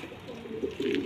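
Soft, low cooing from Devbandi pigeons kept at home, a short murmuring call close by with no voices.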